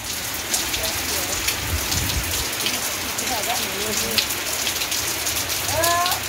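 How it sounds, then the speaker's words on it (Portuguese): Steady rain pours down over a town in Joaquim Gomes, Alagoas, a dense continuous hiss of drops on surfaces throughout, with faint voices and a few distant bird calls in the background. "Olha a chuva aí na baixa."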